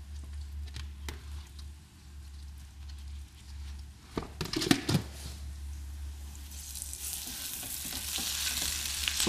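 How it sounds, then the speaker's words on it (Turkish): Onions and tomato paste sizzle steadily in a pan, broken by a brief stirring scrape midway. The frying hiss grows brighter and louder toward the end. "Sadece salçanız iyice kızarması gerekiyor"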